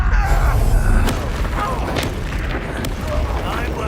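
A Bombarda explosion spell booms in Hogwarts Legacy, a dense, rumbling blast with crackling debris tails that stays loud across the moment, layered with other spell effects.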